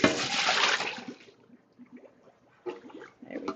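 Hot water is dumped out of a container in a short splashing pour lasting about a second, followed by faint clinks and handling noises in a quiet kitchen.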